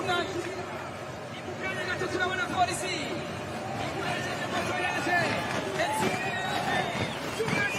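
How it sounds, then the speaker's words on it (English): A large crowd lines the finish road in a Pro Cycling Manager race, a steady roar of chatter and cheering that carries on without a break, with a race commentator talking over it. "Such a massive crowd lining the actual run-in here to the finish."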